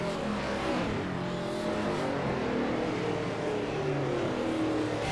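Race car engine captured from a dashboard camera in a beat-up car during a night race, the driver easing on the throttle; a steady, moderately loud engine drone with gently rising pitch, no talk.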